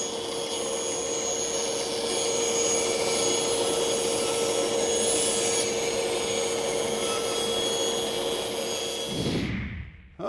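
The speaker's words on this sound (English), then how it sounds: "Now to cut that out, I'm using a 1/2-inch blade with 4 teeth per inch" A bandsaw fitted with a half-inch, 4 teeth per inch blade cuts wood with a steady, loud whine and rasp, its table tilted 5 degrees, until the cut ends and the machine winds down at the close.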